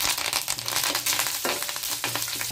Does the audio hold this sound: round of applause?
no